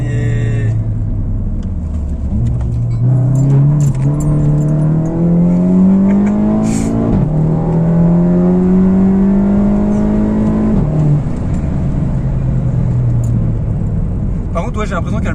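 Volkswagen Golf 7 GTI with Stage 1 tune at 320 hp, heard from inside as the engine revs and pulls hard through the gears, pitch climbing steadily with brief drops at each shift, loud and close under occasional talk.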